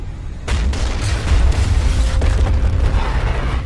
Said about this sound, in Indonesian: Ikkaku secara langsung meledakkan pabriknya untuk membunuh Sakata